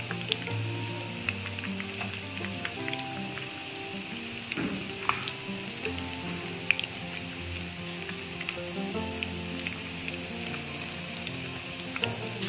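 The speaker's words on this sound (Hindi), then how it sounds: "अब ये पकौड़े फ्राई हो गए हैं" Crispy lachha aloo pakoras deep-frying in hot oil, a steady close sizzle with scattered small crackles and pops that runs unbroken throughout.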